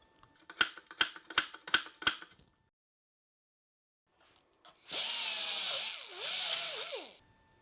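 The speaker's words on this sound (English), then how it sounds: "I can drill these holes" A power drill works on a metal bracket for a Porsche 911 remote spin-on oil filter mount, giving five short sharp bursts in quick rhythm, then a pause and two longer whining runs that sag in pitch under load.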